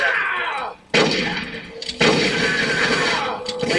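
In Metal Gear Solid: Twin Snakes, video game gunfire sounds as two sharp, loud blasts about a second apart, each followed by a long rumbling tail.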